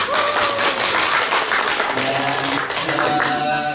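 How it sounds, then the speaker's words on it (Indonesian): Audience applause at a university closing ceremony in Jakarta, a loud dense burst of clapping filling the room, with a few voices mixed in. "Tepuk tangan dulu Pak."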